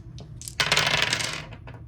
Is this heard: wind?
no